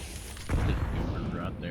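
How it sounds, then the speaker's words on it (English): A grenade detonates in Counter-Strike 2, a sudden heavy boom about halfway in that leaves a sustained low rumbling roar, with a voice heard over it. "Throwing a grenade."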